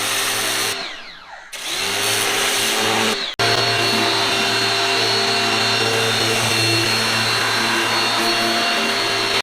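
A Makita HW102 pressure washer runs steadily as it sprays a car during a home car wash, a loud continuous motor whine and hiss. It cuts out briefly twice early on, then keeps going without a break.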